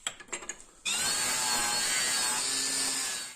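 An angle grinder strips paint from metal: after a few light clatters, the disc bites in with a loud, steady, high-pitched whine that holds for a few seconds, then cuts off abruptly.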